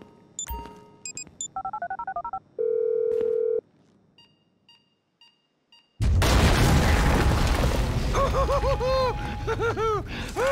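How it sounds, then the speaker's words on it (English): Phone keypad tones in GTA 5: a quick run of separate beeps, then a steady tone and a few faint blips, followed by loud gunfire and explosions with shouting from about six seconds on. "I'm making the call."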